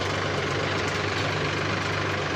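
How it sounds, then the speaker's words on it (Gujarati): A tractor engine runs with a steady, close, low rumbling drone at an even pace, with no talk. "એની ટ્રેક્ટર જાય છે લાઈનમાં।"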